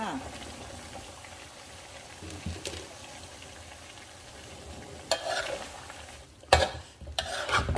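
Stink beans (sato) added to a pork belly red curry frying in a pan, a quiet bubbling sizzle with louder scraping and stirring bursts near the end, close by, with a voice talking faintly underneath.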